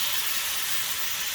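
Blackened mahi mahi sizzles in a hot pan with a steady, bright, hissing crackle, close and constant, with no talk.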